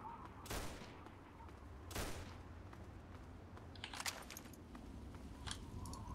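Distant gunfire in Fallout 3 out in the wasteland, with a few sharp shots and a short cluster of rapid cracks that stay faint against a steady low background ambience.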